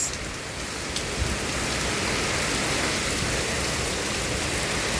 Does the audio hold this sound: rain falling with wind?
yes